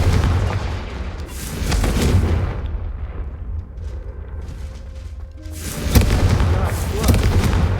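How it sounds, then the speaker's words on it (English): A Confringo fire spell cast in the video game Hogwarts Legacy, heard as booming, explosive bursts around six and seven seconds over a continuous bed of game ambience and low rumble, with voices talking earlier. "a Confringo cast travels a bit farther than a spell like Incendio"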